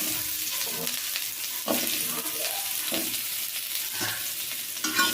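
Potatoes frying in a pan keep up a constant close sizzle, broken by repeated scraping and knocking strokes as they are stirred.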